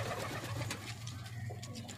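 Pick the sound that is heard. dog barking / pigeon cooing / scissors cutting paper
pigeon cooing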